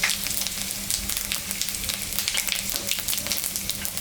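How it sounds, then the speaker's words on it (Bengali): Panch phoron, dried red chili and white cumin crackle and sizzle steadily in hot oil left from frying small fish in a home kitchen, a dense, close, continuous frying hiss with no talk. "এখানে 5 ফোড়ন শুকনো লঙ্কা আর একটু সাদা জিরা সম্বরা দিয়ে দিলাম"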